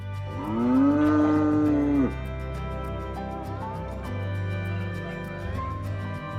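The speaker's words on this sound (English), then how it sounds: "This cow came to the window to wish her owners a good morning." A cow at a house window lets out a long, loud bellowing moo that bends downward at the end, followed by softer lowing calls over a steady background of music.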